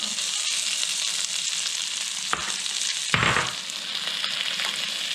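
Shallot and garlic fry in butter in a brazier, a loud steady sizzle filling the whole clip, with a couple of brief scraping stirs partway through.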